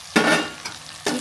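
Onions and green chillies fry in a pan, a bright crackling sizzle broken by a few stirring scrapes, close and loud with no voices.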